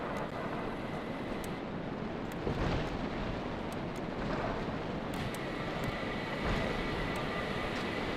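A Y-Wing bomber built in Scrap Mechanic in flight, a continuous rushing engine drone with faint repeated clicks and small swells in loudness, no voices.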